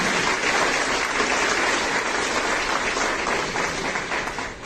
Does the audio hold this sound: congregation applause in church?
yes